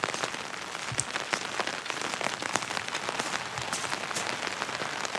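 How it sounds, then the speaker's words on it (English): Heavy rain drumming on an umbrella held outdoors, a dense continuous patter of close, sharp droplet hits at steady loudness, with no talking. "That's why it's so noisy. It's raining like crazy."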